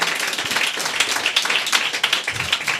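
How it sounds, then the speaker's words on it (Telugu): A church congregation at a meeting claps their hands together to praise the Lord, a loud, dense and steady patter of many hands nearby, continuing without a break and with no talk over it. "చప్పట్లు కొట్టి ప్రభును ఘనపరచడము గాక."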